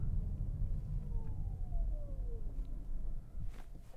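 A 2024 Toyota C-HR hybrid accelerates hard in sport mode, a steady low rumble of engine and road noise rising under a faint whining tone that sweeps across the run, with no talking.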